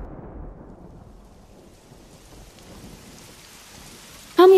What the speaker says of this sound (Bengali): হঠাৎ বৃষ্টি চলে এলো।